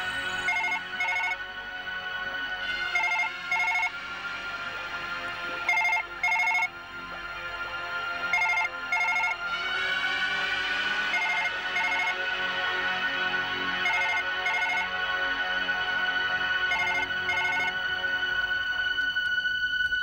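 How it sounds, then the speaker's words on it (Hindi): A telephone ringtone plays on and on in the Hindi TV horror serial Aahat, a bright electronic melody repeating in bursts with short gaps, loud and close with no talk over it. "फोन उठाओ।"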